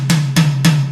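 Three light hits on a Roland TD-25 electronic drum tom pad, each a sharp broadband attack followed by a sustained low tonal ring, evenly spaced and close, with no talking.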